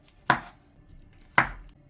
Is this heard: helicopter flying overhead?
no